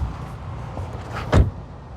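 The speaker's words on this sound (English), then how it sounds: "let's listen to the sound of the closing door" A single solid thud as the door of a 2025 VW Jetta GLI Autobahn shuts, close and short after a moment of quiet outdoor background.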